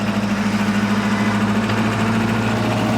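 An old catamaran's boat engine runs steadily with a low, even droning hum and slight vibration, continuous and fairly loud with no talking, while losing revs and smoking.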